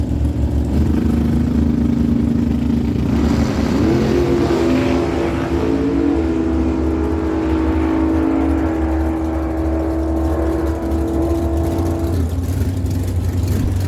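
Drag racing cars roar loudly down an eighth-mile strip in a first-round elimination race, a sustained engine roar with rising pitch as they accelerate, fading slightly near the end.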